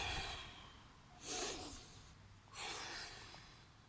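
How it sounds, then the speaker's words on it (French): Breathing during a dumbbell exercise routine (a variant of the Eight Cut Diamond drill): two soft, breathy exhalations about a second apart, close and quiet against a faint room background. "On peut inspirer en montant, expirer en descendant."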